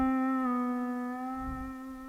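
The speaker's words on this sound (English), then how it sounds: "you don't want to play the note first and then do the glide" A single steel guitar note sounds first, then its pitch glides slightly downward as a pedal is worked, sustaining softly and fading gradually, with no talk.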